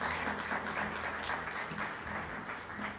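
A church congregation applauds during a Spanish-language sermon, a dense, steady wash of many hands clapping at close range that carries on for the whole span with no talk over it.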